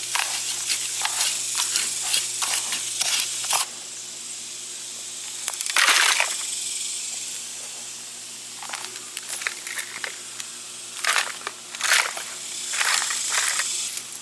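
Seed starting soil is stirred and mixed by hand in a container, giving scratchy, hissing bursts of loose soil. The bursts come in uneven clusters with short pauses between them, close and moderately loud, with no talking.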